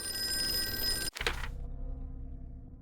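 A telephone in a video game rings with a steady electronic trill, then a thunk as it is picked up and the ringing gives way to a low hum.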